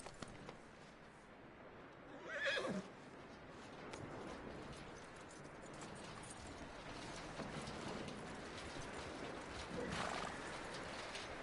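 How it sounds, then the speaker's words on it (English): A horse in Red Dead Redemption 2 gives a short, clear whinny early on, then another fainter call later. Soft hoof clip-clop and creaking tack continue at a low level, with little talk. "That looks like a decent horse."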